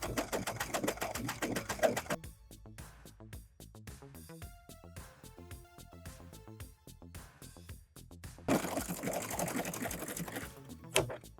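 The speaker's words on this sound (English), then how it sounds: "we're gonna serge from the bottom all the way down to the end of the sleeve" A serger overlock machine runs in rapid mechanical bursts while sewing a thrifted sweater's sleeve seam, loud at the start and end with quieter, intermittent stitching and clicks in between.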